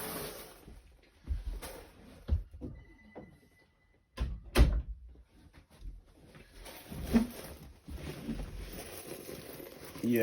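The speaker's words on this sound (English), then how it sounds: "I'm going to close the door." A door being closed in a house: several soft thunks and knocks spread across the moments, with one sharper bang near the middle, amid quiet handling noise and brief speech.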